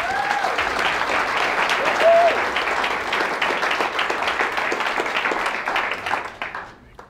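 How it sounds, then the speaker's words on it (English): Audience applause at a self-belief talk, a full crowd clapping steadily with brief voices and a whoop mixed in, gradually fading toward the end. "I think he deserves a round of applause for what he's doing."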